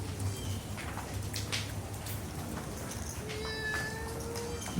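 A voice mimics a cat's meow, faint amid a noisy poker room with scattered background chatter.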